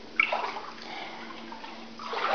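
Floodwater moving inside a flooded house with a laundry, garage and bathroom, giving a soft, steady slosh and wash at moderate distance, slightly stronger at the start and end, with no talk.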